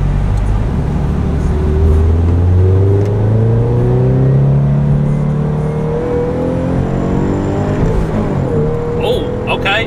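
A drift car's engine revs up in a long rising pull, the note climbing and then dropping as revs fall, loud and close with some background noise.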